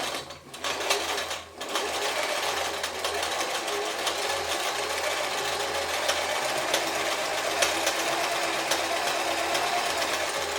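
A German-made Singer 720 sewing machine stitches a cam-driven pattern, its motor and needle running in a steady, close, busy whir after a couple of brief pauses at the start.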